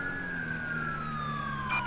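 Fire truck siren in the GTA V LSPDFR police game, a steady wailing tone sliding slowly downward, loud and continuous with no talk.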